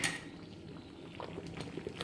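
Pumpkin halwa cooking in ghee bubbles and splutters in a pan, a steady close sizzle with small pops and a few light utensil clinks.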